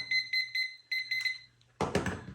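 A kitchen timer beeps in quick high-pitched pulses during beer brewing, several short tones in a row, then cuts off as a louder clattering noise takes over.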